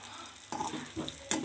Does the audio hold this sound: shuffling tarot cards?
no